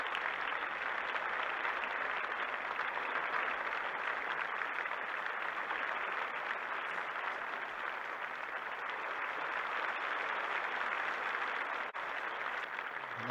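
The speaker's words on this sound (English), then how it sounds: "Very warm applause indeed for Wilhelm Bungert." A crowd at the 1967 Wimbledon final applauds runner-up Wilhelm Bungert, a steady, even wash of clapping from a large audience that is distant and sustained and never breaks.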